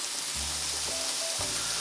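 Mushrooms sizzle and fry in a hot pan while yakisoba is being made, giving a steady, close, dense crackle with faint low hum and shifting tones beneath.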